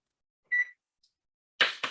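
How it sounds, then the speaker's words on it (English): Kitchen timer being set while sugar cookies bake: a short electronic beep, a faint tiny blip, then two louder, rougher beeps in quick succession, all close and alone in a quiet room. "Set our timer so we don't forget."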